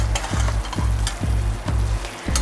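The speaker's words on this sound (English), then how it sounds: "Give it a mix." A spoon stirs keto vegetable upma with roasted peanuts in a hot pan, scraping in a steady rhythm of about five strokes over a continuous close sizzle.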